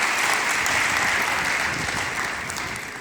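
An audience applauds steadily at a motivational talk, a dense wash of clapping that stays loud and even throughout, then eases off slightly near the end.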